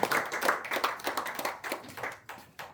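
A church congregation claps together in a steady rhythmic beat, a run of sharp hand claps at moderate distance with no voices over them.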